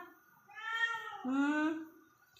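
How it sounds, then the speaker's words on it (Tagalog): A hungry cat lets out two drawn-out, plaintive meows back to back, close and clear against a quiet background. "Yung pusa maingay."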